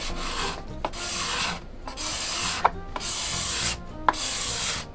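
A hand scraper smooths wood for a mission-style dining table, making a series of long raspy strokes, about four in a row with short pauses and a small click at the end of each.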